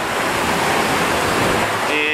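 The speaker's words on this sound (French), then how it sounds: "Il y a quelques belles vagues." Aboard a racing trimaran under gennaker in gusty seas, a loud, continuous roar of waves and rushing water surrounds the hull, with wind noise and faint tonal hums creeping in near the end.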